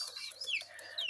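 White broiler chickens after ten days of raising, clucking and peeping close by in a short burst of overlapping high chirps, with no talk over them.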